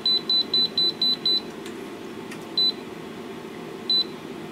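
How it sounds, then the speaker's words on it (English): A Siglent SDM3065X bench multimeter beeps during calibration at about 190 volts: six quick, evenly spaced high beeps in a row, then two more single beeps after pauses, clear and close over a low background hum. "Now it's gonna beep."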